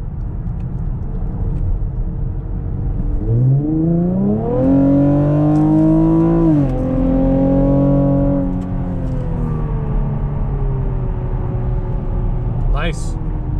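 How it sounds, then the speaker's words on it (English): Car with a V6 engine of over 300 horsepower, nearly new, accelerating hard on a test drive, heard from inside as the engine pitch climbs through a rising rev and shifts, loud and close with a steady road rumble. "accelerating on the car like that when it only has 18 miles on it"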